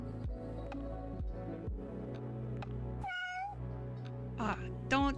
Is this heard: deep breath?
no